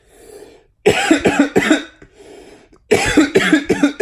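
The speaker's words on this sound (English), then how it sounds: "I'm coughing up a storm" Two harsh bursts of coughing up close, each a quick run of several hacking coughs, separated by a short quiet breath.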